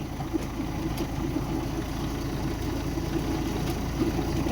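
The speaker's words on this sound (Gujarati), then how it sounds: "તો પરવીણભાઈ હાકી રહ્યા છે ટ્રેક્ટર" A farm tractor engine runs steadily during sesame seed sowing in a field, a continuous low rumbling drone with no break, close by and at an even level throughout.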